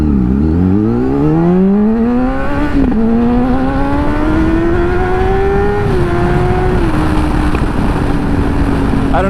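A tuned motorcycle engine revs loudly and steadily climbs in pitch, holding a high, sustained whine close by.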